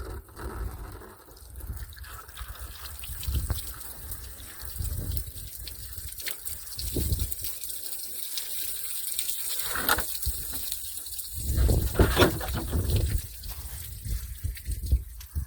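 Water pours and gushes out of a ballistic gelatin test jug at an outdoor ammunition test, a steady splashing stream with louder surges near the end, no talking.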